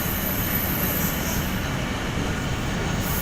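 A train pulls into Koat Radha Kishan station in Pakistan on the Karachi to Lahore line, a loud steady rumble of rolling wheels and carriage noise heard from onboard, continuous throughout with no talking.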